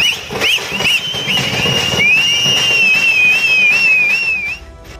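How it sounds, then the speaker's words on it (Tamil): Loud, shrill whistles from film fans outside a cinema at a Leo movie release celebration in Tamil Nadu, one long wavering whistle riding over a dense roar of cheering and noise, fading out at the end. "ராஜேந்திரா திரையரங்கம் முன்பு ரசிகர்களின் விசில் சத்தம் வெண்ணை பிளந்தது"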